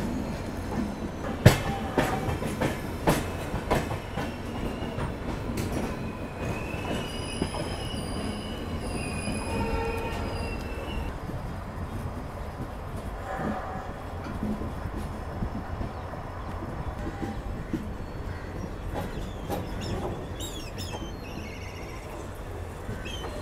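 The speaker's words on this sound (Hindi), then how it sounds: "एक और डीजल ट्रेन जर्नी" A diesel train on the Jabalpur–Somnath Express route rolls along the rails, with sustained high metallic wheel squeals over a constant rumbling clatter and scattered sharp clicks of wheels on rail joints.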